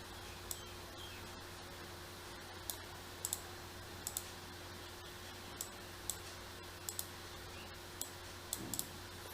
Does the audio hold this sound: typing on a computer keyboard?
yes